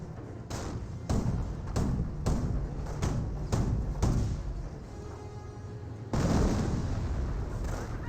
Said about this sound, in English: Maybe that's just the Panzer Grenadiers firing shots.